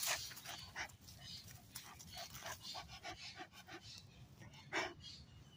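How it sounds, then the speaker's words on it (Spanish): A small dog pants and licks right up close. Its quick, rhythmic breaths are broken by soft wet licking bursts, all fairly quiet. "mi perrito quiere estarme lamiendo y lamiendo"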